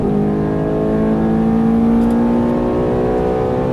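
A Ferrari F430's engine pulls hard on a racetrack after an upshift, a loud, steady, rising mechanical drone with strong harmonics held close throughout, no talk over it.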